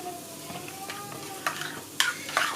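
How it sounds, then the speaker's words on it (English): A chakalaka salad gets tossed with a dressing of Mrs. Ball's chutney, vegan mayo and balsamic vinegar, making soft wet stirring and squelching sounds broken by a few sharper clicks and scrapes near the end. "I'm dressing this salad and I'm mixing it in."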